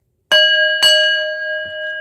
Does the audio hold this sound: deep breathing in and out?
no